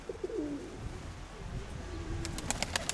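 Pigeons busy building nests give soft, low cooing calls early on, close by and fairly faint, followed by a few quick sharp clicks or flaps near the end, with no voices.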